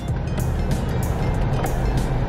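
A car with a freshly installed front and rear dashcam rolls along a bumpy road, giving a steady, close interior rumble of engine and tyre noise with low road drone throughout and no break in level.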